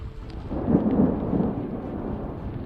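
Thunder from lightning strikes in the Colorado Rockies rolls as a deep, muffled rumble that swells and then fades over a couple of seconds, with no voices.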